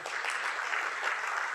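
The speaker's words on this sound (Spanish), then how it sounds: "Un fuerte aplauso, por favor, para el doctor." An audience at a medical talk on ozone therapy for disc herniation gives steady, moderately loud applause to welcome a doctor to the stage. The dense clapping runs on without voices.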